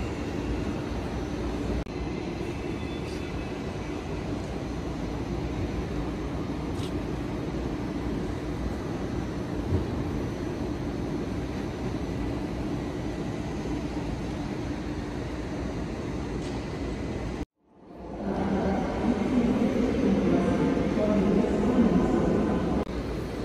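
ICE high-speed train at Leipzig Hauptbahnhof, a steady broad rumble and hiss of the train filling the large station hall, briefly cut off then returning louder and closer.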